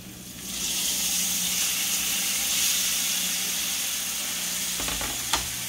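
Fresh diced tomato hits a pan of frying spices, setting off a sudden loud, steady sizzle with steamy hiss that holds close, ending with a few clinks of stirring.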